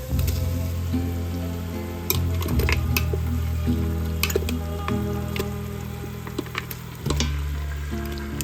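Mutton pieces sizzle steadily in a hot pan for a Pakistani-style korma, with soft stirring scrapes and clinks over a continuous low frying hiss, close and moderately loud.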